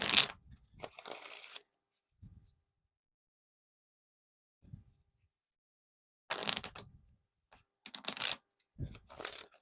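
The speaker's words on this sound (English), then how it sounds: "these are pretty smooth for the riffle shuffles here" Marvel Pop playing cards are riffle shuffled in short, crisp bursts of fluttering card noise, separated by quiet gaps and soft handling sounds, heard close up.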